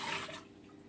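Water pours briefly into a soup pot of corned beef stew, a short close splash and trickle lasting under a second.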